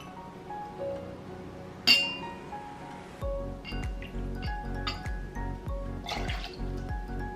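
Spiced rum poured into a cocktail shaker: glassy clinks and a trickling, dripping pour that fills the quiet indoor space, with a sharp clink near the start and steady liquid splashing afterward.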